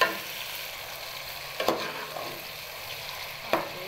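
Onion frying in hot oil for baingan bharta, a continuous close sizzle with a couple of sharp stirring clicks and scrapes against the pan.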